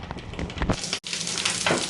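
Yeast pancake batter with chanterelle mushrooms sizzles and crackles in hot oil in a pan, a steady close frying hiss with a brief pause.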